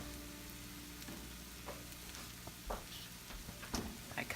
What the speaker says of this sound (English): I'm just gonna put a little butter in the bottom of the pan or some olive oil.